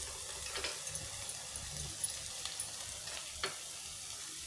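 Potatoes fry in a pan over the flame while being stirred, a faint, even sizzle with occasional soft scrapes of the spoon.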